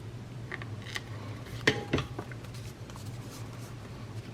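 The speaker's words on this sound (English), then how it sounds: "Then I'm going to trim this little piece off." Scissors trim a small piece of clear self-adhesive pouch envelope in quiet indoor crafting. A few faint snips and crinkles come before two sharper cuts near the middle, all over a low steady hum.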